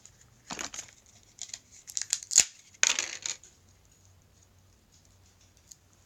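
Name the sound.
opening the packaging of a MASQD blush brush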